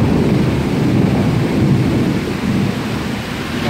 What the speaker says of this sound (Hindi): आप आवाज़ सुन रहे हैं कि इसकी कड़क किस कदर तेज़ है। बारिश भी बहुत ही तेज़ हो रही है